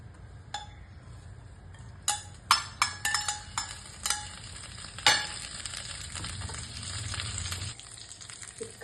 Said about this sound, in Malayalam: ഇതിലേക്ക് കുറച്ച് കറിവേപ്പില വറുത്തിടണം.